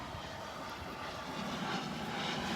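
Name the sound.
corporate jet flying overhead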